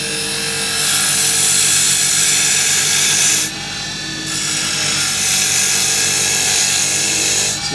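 A hand tool shaves fine curls from hard, kiln-dried wood stock, producing a loud, steady rasping scrape that runs continuously, breaks off briefly midway, then resumes.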